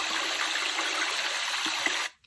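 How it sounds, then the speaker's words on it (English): River water sound played from a sunrise alarm clock's speaker: a steady, hissy rushing flow held close for about two seconds, then cut off abruptly into near silence. "Another rain or river maybe. This is definitely river."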